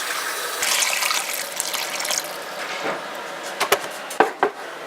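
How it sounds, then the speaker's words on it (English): More water runs into a crock pot of rabbit pieces for stew, a close gushing pour that thins out and ends with a few sharp splashes and clinks, with no talking. "Get them all covered up with water."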